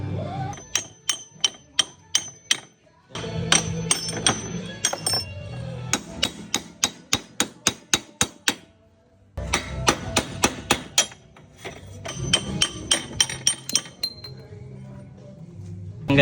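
Sharp metallic knocks as a metal pipe drives the old ball race out of a Honda Click 125 steering head, coming in quick regular bursts of ringing strikes separated by short pauses, close and loud.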